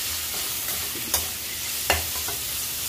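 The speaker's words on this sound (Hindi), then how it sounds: "अब थोड़ा देर अदरक लहसुन को भूनेंगे" Ginger and garlic frying in a pan for a Punjabi methi paratha dish, a steady close sizzle with a couple of soft stirring scrapes, no voices.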